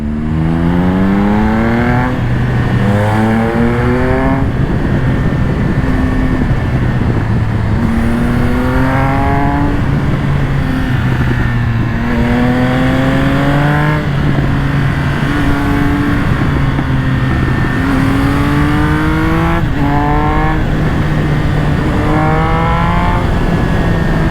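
A Triumph Speed Triple 1200 RS sport motorcycle engine revs hard and climbs through the gears again and again on a road, pitch rising on each pull, loud and close, with no talking.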